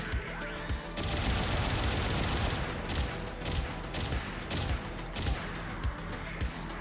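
Three-round bursts from the RGM-109 Heavygun in the mecha shooter Gundam Battle Operation 2 (GBO2), loud and close, repeating several times with short pauses between volleys over continuous game background noise.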